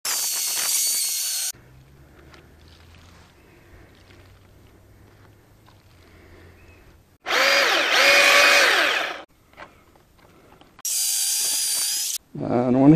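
A battery electric chainsaw cuts through a fallen tree in three separate bursts of loud, high motor whine, the first brief and the later two longer, with quiet outdoor pauses in between.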